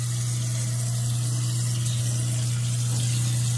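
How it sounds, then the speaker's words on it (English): Steady tap water runs into a kitchen sink with a constant hiss and a strong low hum underneath, unbroken and fairly close throughout. "I always let the running water run"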